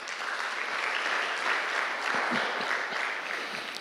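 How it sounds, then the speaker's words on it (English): Conference attendees applaud themselves at an international healthcare conference, a sustained, even round of clapping from a sizeable crowd filling the whole stretch. "Give yourselves a round of applause."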